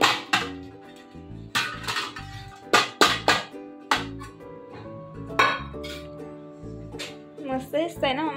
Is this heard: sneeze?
no